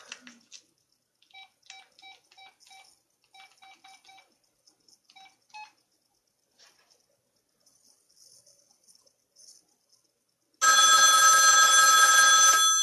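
A 1959 or 1960 Western Electric rotary desk phone gives faint clicks and taps, then its bell bursts into loud, continuous ringing for the last two seconds, with no speech.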